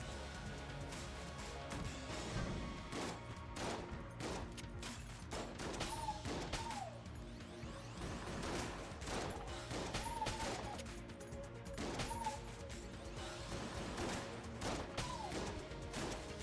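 A sawed-off shotgun firing in the roguelike game Enter the Gungeon, its blasts repeating steadily through a busy, dense mix of game music and effects, heard fairly faintly.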